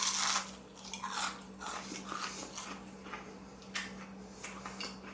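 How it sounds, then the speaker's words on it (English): Close crunching bites into crispy fried popcorn chicken, followed by steady chewing with crackly crunches. "Let's give it a little taste and hear that lovely crunch."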